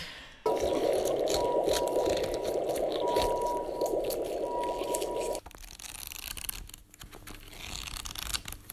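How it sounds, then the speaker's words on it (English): A wet, squishy rubbing of a finger pressed on glass, a loud sustained squeal-like smear lasting several seconds before cutting off into quieter handling noise, no talking. "I got the finger on the glass in there. Get a bit of squishy."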